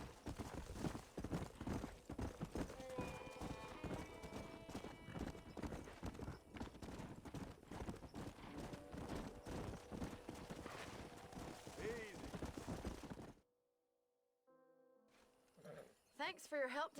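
Horses in the Wild West video game Red Dead Redemption trot with rapid clip-clop hoofbeats and an occasional neigh, loud and busy for most of the stretch before a brief near-silent gap and a return of sound at the end.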